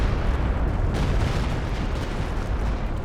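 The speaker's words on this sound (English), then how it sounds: "Will this Stuka barrage do better or worse?" Stuka dive bomber barrage in Company of Heroes 2, a heavy rumbling wash of overlapping explosions. It sounds loud and sustained, with a deep low boom that slowly tails off.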